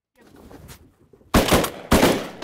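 Two loud, close shotgun blasts from a Beretta Versamax during a duck hunt in Maine, booming about half a second apart after quieter background talk and rustling.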